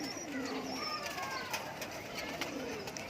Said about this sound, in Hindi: ये देखिए ये कबूतरी है।